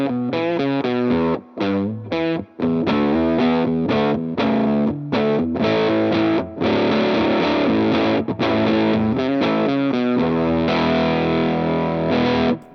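Electric guitar runs through a DOD Chthonic fuzz pedal with the fuzz turned down and the luster up full, giving a loud, lower-gain distorted tone as chords and notes ring out in choppy phrases with short gaps, no voices.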